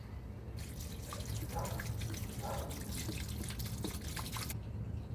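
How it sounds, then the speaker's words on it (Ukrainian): Spring water poured into a bograch pot over a cooking fire, a broad liquid splashing and trickling stream running for about four seconds, close and steady, with some dripping. "Заливаємо водою джерельною."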